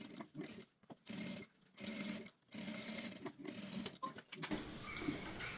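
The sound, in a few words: sewing machine stitching a seam on a shoulder bag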